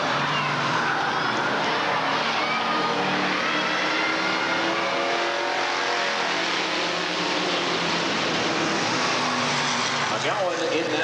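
Street stock race cars, including an Impala and a Pontiac, roar around an oval raceway in a continuous loud engine drone with revving swells, while an announcer talks over the racing.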